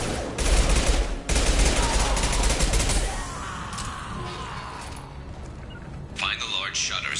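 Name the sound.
gunfire in the video game Mass Effect 2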